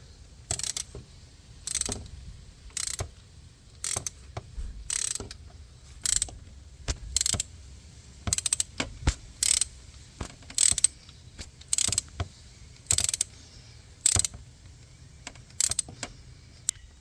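Ratchet wrench tightening the idler pulley on a Mercedes-Benz W212 E250's 1.8 M271 engine: sharp metallic clicking bursts repeat at steady intervals, close up and loud against a quiet background, with no voices.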